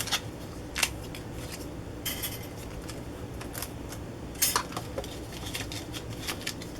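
Scissors snip through scraps of wrapping paper in a series of sharp, irregular cuts with pauses between them, close and fairly quiet against a low background hiss.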